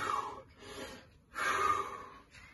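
Sharp, ragged gasping inhales after empty-lung breath-hold jump squats, two strong breaths separated by a brief pause, close and fairly quiet with no talk.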